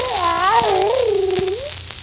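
A human voice imitates a cat's meow on an old 78rpm children's record, one drawn-out, wavering, sliding mew that rises and falls over about two seconds, sung alone over faint record hiss.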